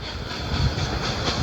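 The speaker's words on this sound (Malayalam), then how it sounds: "ട്രെയിൻ കേട്ടോ" A train rumbles past with a steady rolling clatter and hiss in the Roblox video game, loud and continuous for the whole short stretch.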